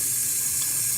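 A Whirlpool dishwasher fills with water after its wash motor was reinstalled, giving a steady, even hiss of running water that fills the whole moment without a break.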